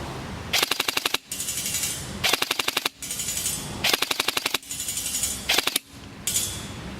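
Airsoft gun firing 0.36 g BBs in burst mode during an outdoor shooting test at a 50 m half-body target: five rapid, sharp clattering bursts of about ten shots each, separated by short pauses with mechanical whirring between them.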